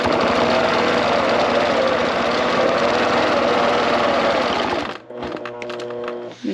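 A sewing machine stitches across a scallop quilt block in a fast, even chatter of needle strokes, close and loud, then stops suddenly near the end, leaving a few softer clicks and handling sounds.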